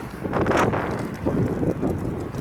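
Strong morning wind blows outdoors, a steady broadband rush buffeting the microphone with gusts swelling and easing throughout.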